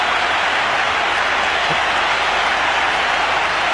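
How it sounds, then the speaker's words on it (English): Packed stadium at the 1996 Sri Lanka versus India World Cup semi-final roaring and clapping for a batsman, an unbroken wall of cheering, loud and even throughout the short stretch. "The crowd says it all."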